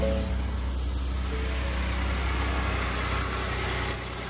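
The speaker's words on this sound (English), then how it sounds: "that belt down in there starts to do this" A cold 2020 Ford F-150 with the 3.5L engine lets out a steady, loud high-pitched serpentine-belt squeal over the low hum of the idling engine, with no one talking.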